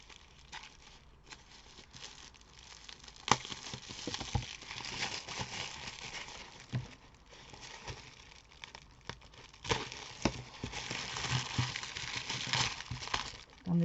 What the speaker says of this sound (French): on a un emballage comme ça dans du papier de soie